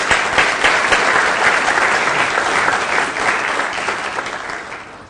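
Sustained, loud audience applause at the 2012 Black Scholar Awards honoring young award recipients, a dense roar of many clapping hands that holds steady and then tapers gently toward the end.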